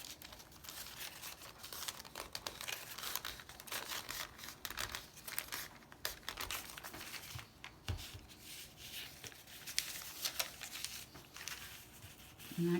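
Piano roll paper being folded over for a junk journal page gives faint, steady crinkling and soft rustling, close up and continuous, with no talking.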